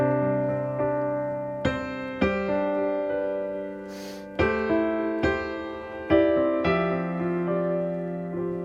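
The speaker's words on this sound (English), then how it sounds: "anything in this range is going to have kind of a warm, happy sound" Piano accompaniment in the middle register sounds warm, with a sequence of sustained chords struck roughly every second, each attack ringing and decaying into the next, clear and close.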